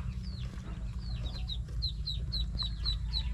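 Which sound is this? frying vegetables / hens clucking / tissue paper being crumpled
hens clucking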